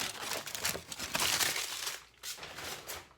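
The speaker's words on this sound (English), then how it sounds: "Tin foil coming off." Tin foil is peeled off a cooked steak, giving close, loud crinkling and crumpling for a few seconds with a short pause near the end.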